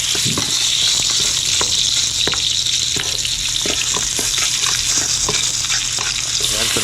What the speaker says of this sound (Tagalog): Ayan, lagyan na po natin yung bawang.